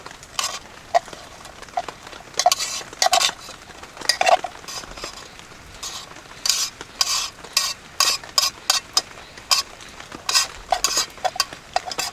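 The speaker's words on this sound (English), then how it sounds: "let's go ahead and put that sausage in there and chow down" Sausage cooks in a pan over an open flame, with a soft sizzle beneath repeated loud bursts of scraping and stirring against the pan. The bursts come in irregular clusters, close by, and no one speaks.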